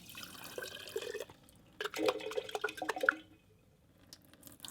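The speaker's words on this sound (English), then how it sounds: "Drain the seeds and rinse with clean water." Broccoli seeds in a jar are drained and rinsed with water, giving faint, close splashing and dribbling in short bursts with quiet gaps between.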